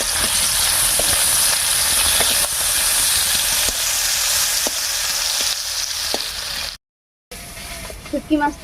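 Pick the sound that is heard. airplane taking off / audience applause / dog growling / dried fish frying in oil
dried fish frying in oil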